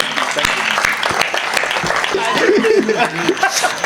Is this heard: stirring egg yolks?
no